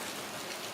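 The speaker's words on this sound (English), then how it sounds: "Things you do when it's raining and your Airbnb is still a few blocks away, but you're under a covered roof." Rain falls in Penang, Malaysia, heard from under a covered roof as a steady, even hiss of drops that fills the brief moment without any voices.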